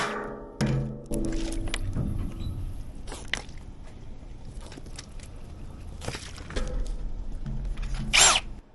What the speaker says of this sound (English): Amazing what a sharp drill does.